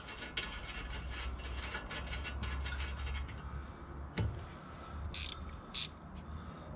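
A ratchet clicks in short bursts while fastening a screw beneath a VW Golf 5 1.9 TDI, with faint metallic rubbing and a few sharper knocks in a quiet garage space.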